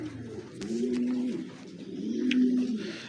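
Pet pigeons or doves in an aviary in Lahore coo in soft, repeated rolling phrases, close and steady, with a faint rustle behind them and no talking.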